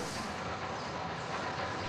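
An animated goods train carries supplies along rails with a continuous, even rumble and hiss of wheels. The sound stays moderately quiet and steady throughout, with no talk.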